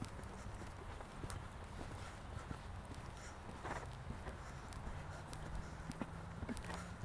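A young horse in training walks with steady, moderately close hoof clip-clops on a riding surface, an even rhythm under quiet background sound.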